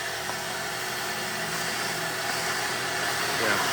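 A turbo vacuum at a self-serve car wash runs steadily, a constant broadband motor roar with a faint low hum that holds even and close for the whole stretch.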